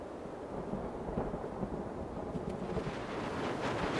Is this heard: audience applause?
no